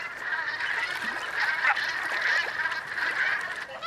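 A busy flock of light-bellied Brent geese on autumn mudflats keeps up a steady overlapping honking and chatter, fairly close and unbroken, with no voices over it.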